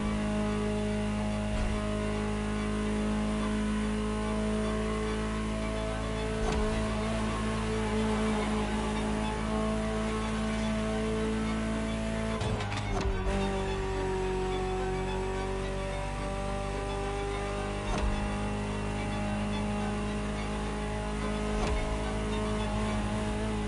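A Ferrari supercar engine in The Crew Motorfest holds a steady, sustained drone with strong tonal harmonics, shifting pitch briefly midway before settling back, moderately loud and with no talking.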